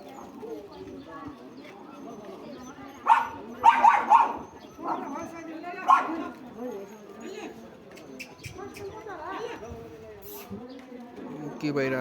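Dogs at a vaccination session bark in a few short bursts over steady background chatter, with people talking throughout.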